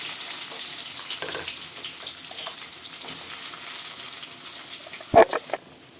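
Small shallots sauté in oil in a pan for mutton curry, giving a steady gentle sizzle that ends in a few sharp knocks of a spoon against the pan, no voices.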